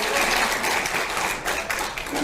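Crowd of party delegates at a Democratic Party leadership candidate speech in Jeju gives dense, loud, sustained applause that fills the room without a break.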